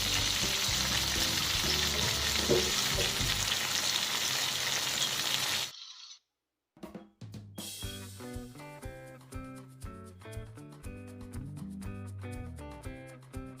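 Stuffed brinjals frying in a pan, a loud dense sizzle for several seconds that cuts off abruptly into near silence, followed by fainter crackling with rhythmic clicks and scrapes.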